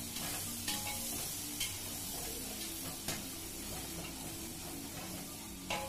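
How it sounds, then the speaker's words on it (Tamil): Potatoes and vegetables with masala being stirred in a pot for hotel-style sambar: continuous sizzling with periodic scraping strokes of a spoon against the pan, close and steady, no talking. "2 காய்கறியும் சேர்த்துட்டு நல்லா வந்து மிக்ஸ் பண்ணுறாங்க நம்ம மசாலாவோட"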